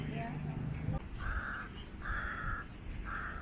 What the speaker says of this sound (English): There's always a crow.